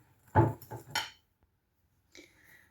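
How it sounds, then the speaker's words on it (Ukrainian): Room-temperature butter creamed with powdered sugar in a bowl: a few short, close scraping and clinking strokes of a utensil against the bowl, then a pause and one softer stroke. "І все це розтираємо до однорідної маси."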